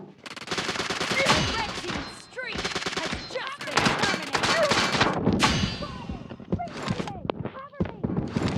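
Rapid bursts and single shots of video game gunfire crackle densely throughout, loud and close, mixed with clanks and thuds, while voices talk over the action.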